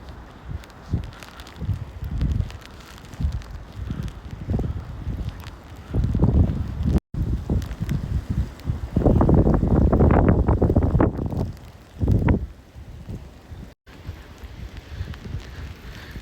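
Wind buffets the microphone in irregular low gusts, swelling loud in the middle before easing, with occasional rustling close by, outdoors in snow.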